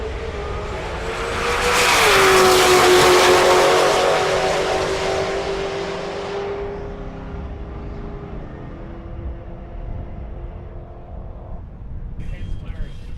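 Drag race cars launch with nitrous assist at a Rocky Mountain Race Week meet, engines roaring loudly and swelling then fading as they pull away, with an announcer talking over the noise.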